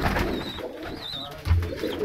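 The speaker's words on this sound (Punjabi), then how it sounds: "ਇਹ ਵੀ ਇੱਕ ਟੈਡੀ ਕਬੂਤਰ ਹੈ ਜੀ" Teddy pigeons at a loft sale coo in short low bursts, fairly close, with a brief louder thump near the middle and soft background chatter of birds.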